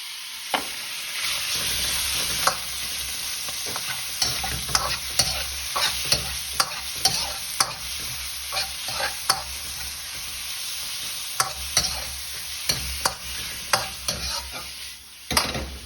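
Beef sizzles loudly while stir-fried in a hot non-stick wok, a steady frying hiss broken by frequent sharp scrapes and clacks as the meat is pushed from side to side; no talking.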